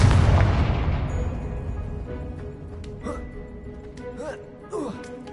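A Confringo explosive spell blast in Hogwarts Legacy on PS5 opens with a loud booming burst that decays over a few seconds, followed by quieter whooshing spell effects.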